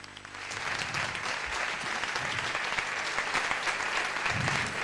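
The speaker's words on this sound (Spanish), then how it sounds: "un aplauso para todos ustedes" Warm, dense applause from a carnival audience at a murga charity gathering in La Orotava, a continuous roar of many hands clapping that holds steady and full throughout.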